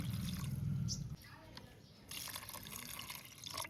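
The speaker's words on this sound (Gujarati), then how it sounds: "થોડું નાખી દઈશું આપણે પાણી" Water is poured into a homemade sherbet mixture of sugar and lemon, giving a brief, soft splashing trickle before quieter liquid sounds under talking.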